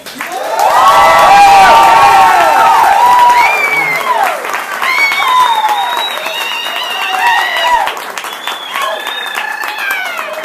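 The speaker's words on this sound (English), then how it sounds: "So I want to hear a really loud, little village, Latino, multicultural, multi-generational applause." A loud, multigenerational crowd at a Latino community event in Little Village applauds and cheers. Sustained clapping mixes with whoops and high shouts across ten seconds, peaking early before easing slightly.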